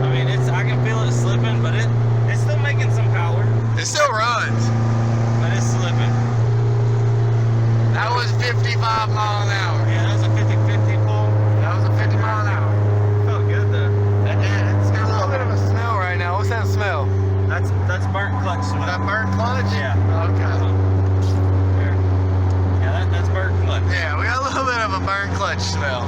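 Turbocharged Integra with a slipping stage 3 clutch, its engine droning loudly and steadily as revs hold and waver, with a voice talking over it.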